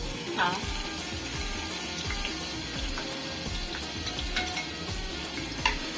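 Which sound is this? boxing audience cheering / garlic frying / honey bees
garlic frying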